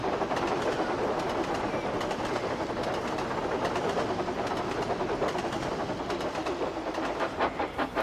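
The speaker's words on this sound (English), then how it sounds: "After Stanley had pushed the special train up the hill" A train rolls steadily along the rails, wheels clicking and rumbling at a constant pace, with faint bird calls in the background.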